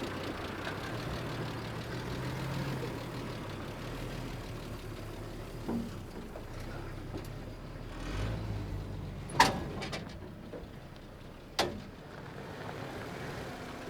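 Suzuki Jimny 4x4 running at low revs during an off-road club challenge, a steady moderate engine drone with a few sharp knocks and clunks over it.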